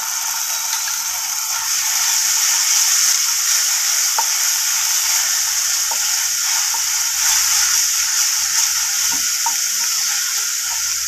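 Ginger garlic paste frying with green chillies in a hot pan, a steady loud sizzle with faint scraping stir clicks, close and continuous without talk.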